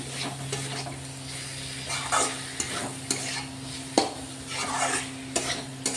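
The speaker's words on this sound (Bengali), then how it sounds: "এবারে মশলাটাকে আমি কষিয়ে নেব।" A ginger and green chili spice paste with Kashmiri chili sizzles in a pan, steady frying hiss broken by repeated scraping stir strokes and light clinks of a utensil against the pan.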